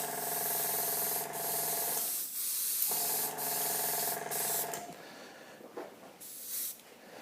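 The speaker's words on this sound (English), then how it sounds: "make sure that the black's actually coming through the airbrush" An airbrush sprays black paint in close, steady hissing bursts, the first two long and even, then several shorter, broken puffs trailing off near the end.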